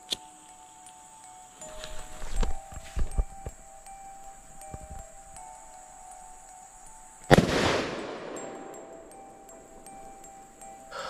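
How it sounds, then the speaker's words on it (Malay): Firecrackers are set off in a forest, a few scattered sharp pops followed by one loud crackling burst that trails off into hissing, heard outdoors with no talk. "Dalam keadaan bahaya macam ni, kita cuba menghalau bakar mercun."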